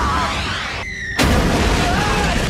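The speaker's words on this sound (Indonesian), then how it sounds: "sebuah meriam meledak" A sudden loud cannon boom bursts in after a brief hush, hitting a restaurant in a crowded street, followed by a sustained noisy rumble with faint background voices.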